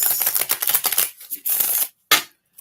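A deck of tarot cards being shuffled close up in quick riffling bursts, a run of rapid flicks, a pause, then one last short shuffle, with no voices.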